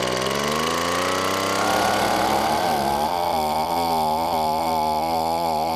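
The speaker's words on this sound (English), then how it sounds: "First, 150-mile-per-hour Weed Eater brand leaf blower." Weed Eater brand leaf blower with a small two-cycle engine running loud and close, a continuous buzzing drone that rises in pitch partway through and holds steady, with no voices.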